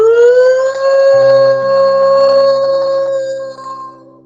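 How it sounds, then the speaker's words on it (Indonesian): A wartime siren in Palestine sounds late at night, a loud, close wail that rises and then holds one steady tone over a low hum before trailing off at the end. "itu adalah sirine tanda peperangan akan dimulai"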